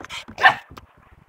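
A dog gives a few short, close barks and yips in quick succession, fairly loud, with no talk over them.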